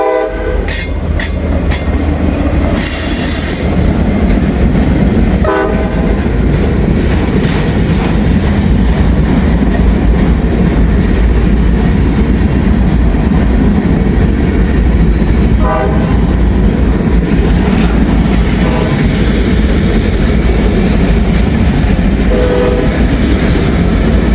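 A train with a caboose rolls past close and loud on a B&O line, with a sharp horn blast at the start, rhythmic clickety-clack of wheels over rail joints, and occasional squeals.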